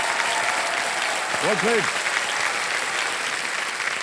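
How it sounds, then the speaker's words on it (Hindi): Studio audience applause fills a TV quiz show set, a broad steady wash of clapping that runs the whole time, with a brief spoken voice cutting through partway. "अरे बधाई हो, तालियां बज जाए इनके लिए।"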